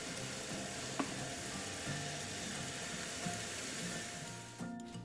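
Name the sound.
patty meat searing in a pan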